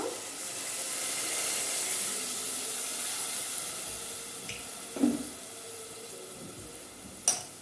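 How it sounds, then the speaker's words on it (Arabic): Water pours into a cooking pan in a home kitchen, a steady hissing splash that runs for several seconds, followed by a couple of faint clinks near the end. "هنا شويه ميه بقى"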